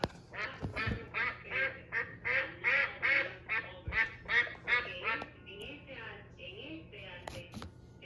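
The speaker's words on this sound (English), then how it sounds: "This is a duck. Ducks swim in the pond." A duck quacks in a rapid run of nasal calls, fairly close and clear, then trails into a few softer quacks with a faint low hum underneath.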